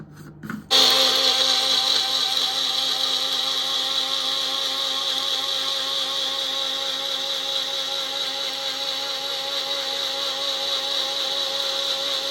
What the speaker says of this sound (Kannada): ಮೇಲ್ಗಡೆ ಇರೋ ತಿಳಿ ಎಳ್ಳೀರನ್ನ ಇಲ್ಲಿ ಮಿಕ್ಸಿ ಹಾಕಿ ಇದು ಚೆನ್ನಾಗಿ ರುಬ್ಕೊಳ್ಳೋಣ